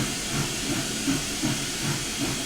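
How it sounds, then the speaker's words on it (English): Steam hiss from the 844 high-speed freight steam locomotive in a train game comes as a continuous loud rushing hiss, with faint rhythmic chuffing pulses underneath and no talking. "This is a high-speed freight locomotive, and I cannot get the locomotive to speed up past 11 miles an hour."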